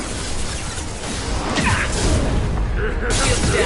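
Incendiary ammo fired in Mass Effect 2 combat: a loud, dense stream of booming bursts, whooshes and crashing impacts that builds and continues throughout, with a slight lift in intensity around the middle.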